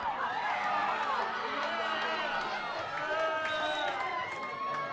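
At a women's semi-final soccer match between The Gap and Souths United, a crowd reacts with a sustained, loud mass of voices, shouts and chatter that swells and rolls over several seconds.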